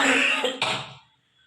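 A woman lets out a close, harsh cough in two quick bursts with a throaty rasp, then falls quiet.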